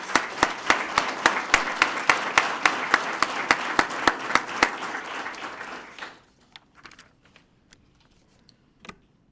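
A room applauds newly sworn-in police officers at a Sarasota police swearing-in ceremony: crisp, close claps build into a steady round for about six seconds, then trail off into a few scattered last claps.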